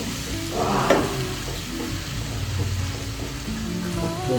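Ingredients for moong dal frying in a pan, a steady soft sizzle with occasional stirring scrapes, close and continuous with no talk.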